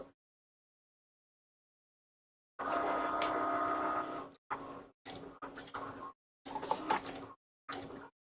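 A Cricut Maker cutting machine draws with an orange pen, its mechanical whirring in steady bursts broken by short pauses, close and moderately loud, with no talking.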